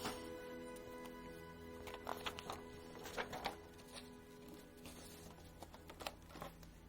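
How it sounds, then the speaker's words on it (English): A home printer feeds and prints on reused draft paper, a quiet mechanical whirring broken by irregular clicks and rattles for several seconds. "I'll just turn it over in the printer and print on this side"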